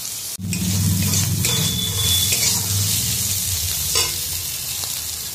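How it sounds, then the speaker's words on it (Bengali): Frying in a pan while preparing mourala fish sour curry, a dense close sizzle starting abruptly after a short click, with intermittent spatula scrapes and a faint high ringing tone. "একটু ভেজে নিই"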